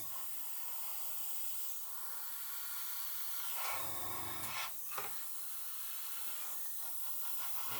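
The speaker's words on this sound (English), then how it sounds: "here I'm just going to spray this" A steady, faint hiss of an airbrush spraying paint over stencil masks runs throughout, with a short lower rumble midway and a few soft clicks.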